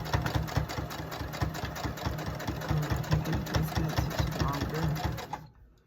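A sewing machine stitching across a quilt seam runs in a steady, fast mechanical chatter of needle strokes, close and continuous for several seconds before stopping abruptly near the end.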